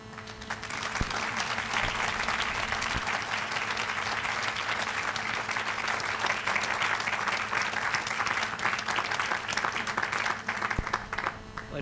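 Sustained applause from a standing audience at a formal honorands dinner, dense clapping filling the room steadily and loudly for the whole stretch without pause.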